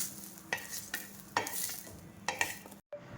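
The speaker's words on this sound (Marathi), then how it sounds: "आपला कांदा पण छानपैकी भाजला गेला आहे" Onion roasting in a pan is stirred with a utensil, giving a series of scraping strokes about every half second over a soft, low sizzle, heard close with no talking.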